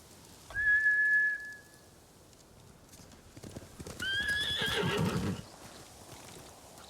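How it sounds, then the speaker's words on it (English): Samurai mounts in the Ghost of Tsushima video game give a loud whinny, followed by clip-clopping hooves and a second, longer neigh layered over a rush of movement, all close and clear. "Bastards scared off the horses. They're samurai mounts."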